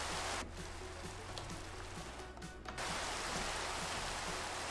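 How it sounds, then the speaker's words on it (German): Rainfall in the video game Minecraft, a steady dense patter of rain on surfaces heard continuously as a fairly loud, even wash of sound with no talking. "Es regnet und es ist dunkel"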